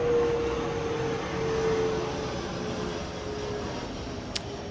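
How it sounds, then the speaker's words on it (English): A steady, broad rumble of an airplane passing overhead, fairly constant and moderately loud, with no voices. "We'll wait for this airplane to finish."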